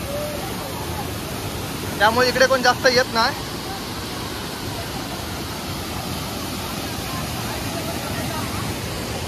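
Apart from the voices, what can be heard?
waterfall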